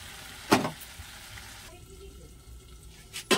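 Potatoes tipped into masala frying in oil, with a loud splashy hiss as they land, a steady sizzle underneath, then another sharp burst of sizzling at the end; no talking.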